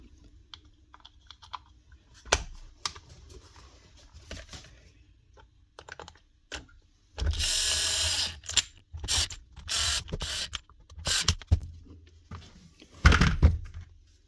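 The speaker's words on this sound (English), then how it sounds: "So 4 wee short machine screws go on here." Short machine screws being fitted into the cover of a Makita DUH453 cordless hedge trimmer during motor replacement: close, irregular bursts of small clicking, ratcheting and clattering, with a few louder busy stretches and quiet gaps between.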